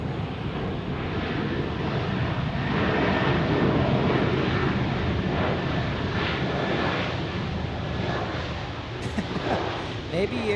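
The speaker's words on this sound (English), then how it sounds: "This American Airlines Airbus in from Philadelphia." An American Airlines Airbus airliner arriving from Philadelphia at Tampa International Airport gives a broad, steady engine roar that swells and fades slightly over its span, with wind noise on the microphone.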